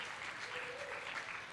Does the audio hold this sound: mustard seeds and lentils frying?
no